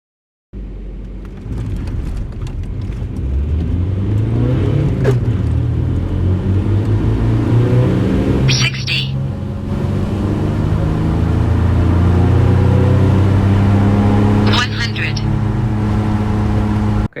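A VW PD TDI diesel car accelerates hard on a timed performance run, its engine drone rising steadily in pitch through the gears over a continuous loud road rumble, with a brief dip at a shift.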